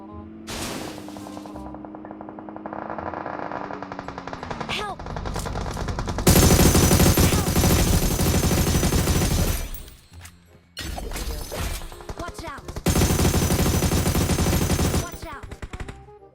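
Rapid gunfire bursts in the PUBG video game ring out loud and close, with repeated automatic volleys and brief pauses, while players talk excitedly over the shooting.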